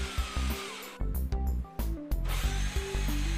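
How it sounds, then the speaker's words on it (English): A power drill bores a bolt hole in a wooden saw insert, its motor whining loud and close in repeated short bursts that stop and restart in quick succession. "So I'll mark its location and make a hole for a bolt that will hold the insert in place."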